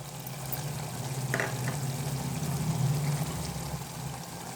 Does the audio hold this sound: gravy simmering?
yes